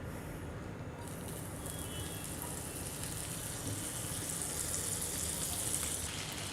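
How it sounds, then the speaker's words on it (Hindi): About two tablespoons of butter melting in a pan on the stove give a steady, even sizzling hiss that runs unbroken from start to finish, with no voices. "एक पैन में हम 2 टेबलस्पून के करीब मक्खन डाल देंगे,"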